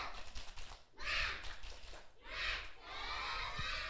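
Kindergarten children at a school talent show burst into a loud clapping cheer in two rising waves, a busy crowd roar of young voices and hands that swells, dips and swells again.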